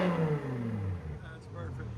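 A 500 hp BMW M5 with a 5.0L V10 and straight pipes revs hard near the limiter, its deep engine note sweeping down and settling, with a loud, close exhaust roar throughout.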